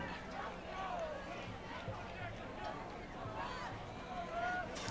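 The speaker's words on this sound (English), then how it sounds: "It's a little bit of a buzz from the stands, which is nice to hear on a Friday night." Stands at a Friday-night high school football game between Falmouth and North Quincy give off a faint, steady crowd murmur, a diffuse distant hubbub with scattered calls rising through it.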